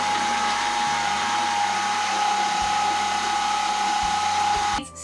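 Steady whirring drone of an electric mixer beating choux pastry dough after egg is added, continuous and fairly loud with slight changes in pitch, cutting off abruptly at the end.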